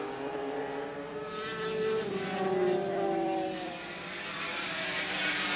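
500cc racing motorcycles pass at Silverstone in 1984, high engine whines rising and falling as bikes sweep by at moderate distance, several overlapping passes in steady succession.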